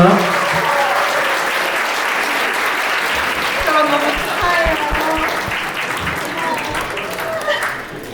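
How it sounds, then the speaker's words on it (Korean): Wedding guests at the Samjung Hotel break into loud, sustained applause, a dense wash of clapping that carries on throughout while voices talk over it. "다시 한번 큰 박수 부탁드립니다"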